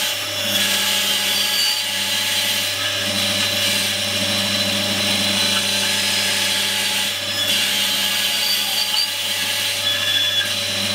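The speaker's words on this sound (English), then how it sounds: "Now in order to cut these notches out, I'm just going to use the bandsaw" A bandsaw cutting notches in wood for a wooden bar clamp, running as a loud, steady continuous whine and hum throughout, with the blade's rasp varying slightly as it works through the cut.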